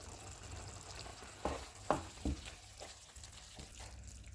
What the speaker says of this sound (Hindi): कीमे को पकते हुए 10 मिनट गुजर गए हैं।